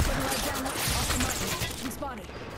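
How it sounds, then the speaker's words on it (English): Rapid bursts of gunfire in Apex Legends crackle in a dense, continuous volley at close range, with a voice partly mixed in underneath. "They're shooting at me."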